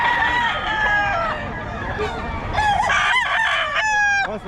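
Roosters crow one after another at a chicken market in Bocaue, loud and close, with clucking between the calls and a voice talking briefly.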